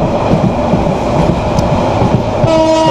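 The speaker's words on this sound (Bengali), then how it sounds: "দুর্দান্ত গতিতে আমাদের ট্রেন ছুটে চলছে কক্সবাজারের উদ্দেশ্যে।" The Saikat Express train runs at speed toward Cox's Bazar, a loud, steady rumble with rhythmic clatter of wheels on rails, close and continuous, and a brief horn-like tone near the end.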